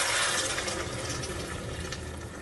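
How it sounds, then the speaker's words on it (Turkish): Water poured into a pot of celery soup on the stove, a steady close splashing gush that runs for the whole moment without talk. "Suyumuzu ekliyoruz."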